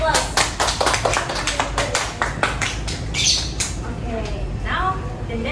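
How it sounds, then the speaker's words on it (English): A classroom audience gives a round of applause during a micro-teaching activity, with sharp, fast claps that are loud and close at first and then thin out. Voices are heard over the clapping. "Give applause."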